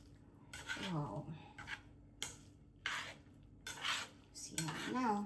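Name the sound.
mixing pork pulutan ingredients in a bowl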